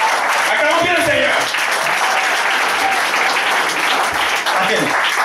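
A church congregation applauds in praise, a loud, dense and continuous clapping that carries straight through the clip, with voices mixed in.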